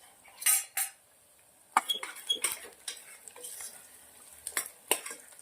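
Cashews and onion with asafoetida being fried in a pan, with sharp metal spoon clanks and scrapes against the pan over a light sizzle, close and intermittent, no one speaking.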